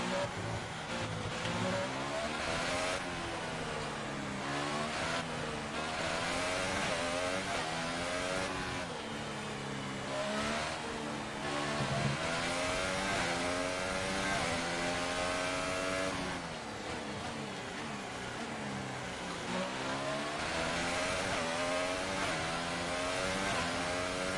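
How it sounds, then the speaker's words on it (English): Formula 1 race car engines in the F1 2018 video game, driving a Williams, whine continuously at high revs, rising and dropping with gear changes and corners, loud and steady throughout without talk. "I do not like the sound of these cars."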